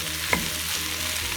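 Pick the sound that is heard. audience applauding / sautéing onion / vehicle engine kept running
sautéing onion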